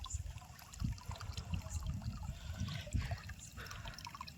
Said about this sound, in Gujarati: તલમાં હાલે છે પાણી